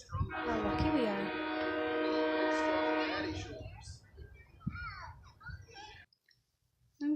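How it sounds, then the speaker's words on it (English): A passing train sounds a loud, sustained horn blast near a bench where people wait to watch it, then fades into quieter rumble and brief background noise. "The train's coming."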